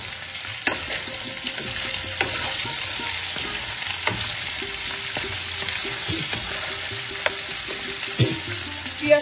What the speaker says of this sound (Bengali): সেই জন্য আলুর সঙ্গে পেঁয়াজটা ভাজা হোক